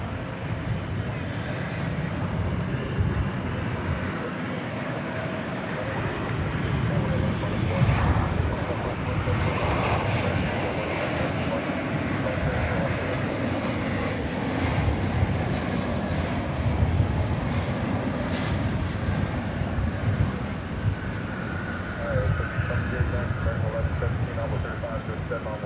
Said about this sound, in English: That was American flight number 1832 coming in from